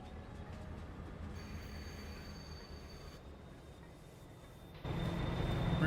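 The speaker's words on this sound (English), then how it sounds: "Yeah, trains are slow to stop." A train in the game Farming Simulator 22 slowly brakes to a stop, with a steady rumbling rail roll and faint high wheel squeals that hold throughout, growing slightly louder near the end.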